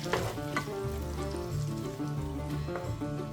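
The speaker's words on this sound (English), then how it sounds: "We'll stir this around with that butter." Food frying in butter in a pan on a stovetop is stirred around, a continuous close sizzle with soft scraping stir sounds and a few light clinks, no talking.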